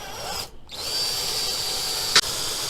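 Power drill boring through a metal bracket on a PC test bench build, a steady high whine running almost the whole time with a short break early on and a sharp bite near the end, close up with no talking.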